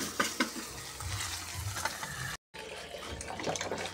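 Water poured into a frying pan while cooking corned beef, a continuous splashing, sizzling wash with a brief cut partway through.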